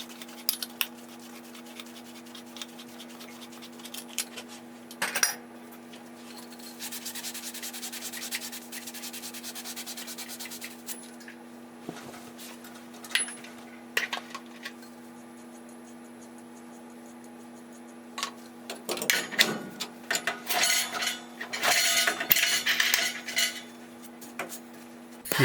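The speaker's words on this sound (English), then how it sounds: "Mark the copper to the proper length, cut, then clean and flux the newly cut end." During a gas water heater replacement, copper pipe is cut and its end cleaned, giving intermittent scraping and rubbing passes with sharp metallic scratches, close by over a steady background hum, without speech.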